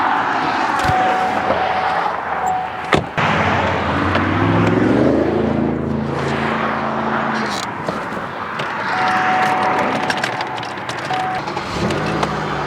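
A high-mileage Pontiac Grand Am GT being driven off a trailer, its engine running steadily and close by with a rising rev in the middle, a sharp bang, and faint voices in the background.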